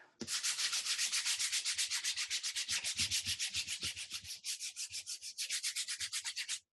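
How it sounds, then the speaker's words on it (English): Rapid, rhythmic back-and-forth scratching of sandpaper sanding wax off a painting surface, dozens of quick even strokes up close, briefly pausing near the end. "I'm going to go and take my sanding disc or sandpaper"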